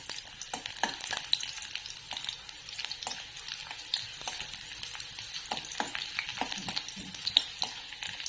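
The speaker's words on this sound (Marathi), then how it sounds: "या उसळला लसूणमुळे खूप चांगला फ्लेवर येतो म्हणून थोडीशी लसूण याच्यात घालायची खूप ब्राऊन करायची नाही हलकी आपण लसूण परतून घ्यायची" Garlic sautés lightly in a pan for masoor usal, a steady close sizzle broken by frequent sharp scraping and stirring clicks throughout, with no talking.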